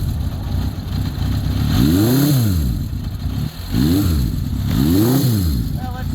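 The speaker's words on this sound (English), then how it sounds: "We're going to turn the choke all the way off and see if it wants to idle now" Honda CB750 motorcycle engine idling after a cold start with the choke off, a close, uneven idle that rises in repeated revs and then drops back, sounding a little tired.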